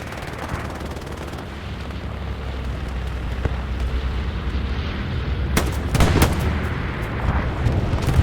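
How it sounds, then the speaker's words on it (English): Bombing-run explosions in a multiplayer shooter video game, a dense barrage of booming blasts and crackling gunfire under steady battle rumble, with sharp heavy impacts clustered near the end. "Bombing run coming in."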